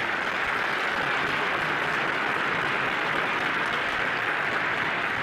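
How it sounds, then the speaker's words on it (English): Diners at an ethics awards gala dinner applauding, a continuous, even wash of clapping from a large crowd of over five hundred, moderately loud and without speech. "So please give yourself a round of applause."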